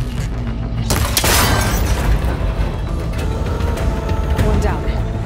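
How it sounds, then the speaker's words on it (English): A cable connector shot apart in Horizon Forbidden West, a loud burst with a sharp crack and breaking debris around the one-second mark, followed by rumbling mechanical clatter and game ambience throughout. "It should break if I shoot it."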